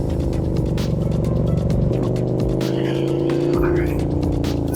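KTM 1290 Super Duke R Evo motorcycle exhaust on a winding mountain road, a continuous loud engine drone that shifts pitch as revs rise and fall, heard close from the rider's position with some wind noise.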